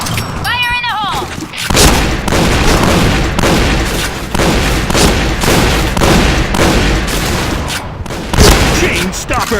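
Booming blasts and gunfire from the Point Blank shooter video game in shotgun mode, a grenade explosion among repeated loud, sharp reports that continue through the whole stretch.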